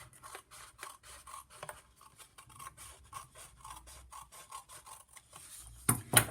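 Scissors snip steadily across paper to cut strips for paper weaving, a close, repeated rhythm of crisp cuts about twice a second, ending with a louder rustle of paper.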